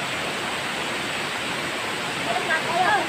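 Water flows steadily outdoors as a loud, continuous rushing wash, with a few faint chirps near the end.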